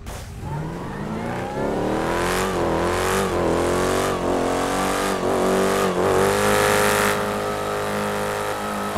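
An Audi Q8 and a Jeep Trackhawk drag race in GTA 5, with engines revving hard through repeated gear shifts. The loud, continuous roar climbs in pitch again and again over about nine seconds, and no one speaks.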